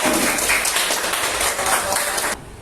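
A room of teachers in a training session bursts into brief, lively applause, dense clapping that holds for a couple of seconds and then stops abruptly.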